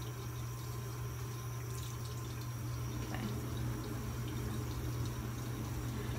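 Water runs from a bathroom tap while a face is being wetted, making a steady, moderate rush with faint splashes and drips, heard close with no talk.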